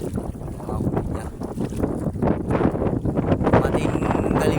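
Strong wind buffets a small fishing boat at sea as it heads home with its catch in the nets, making a loud, steady rushing roar with gusty swells and no talking.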